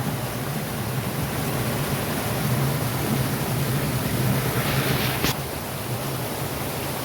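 A river swollen by two days of heavy rain rushes past in the Konkan countryside, a steady, dense roar of forceful flowing water that fills the whole stretch without pause.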